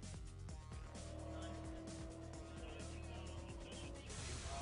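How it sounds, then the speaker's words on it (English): A prototype racing car at a racetrack drones past with a steady engine tone, fairly faint and even, with a voice talking over it. "This is a prototype racing car."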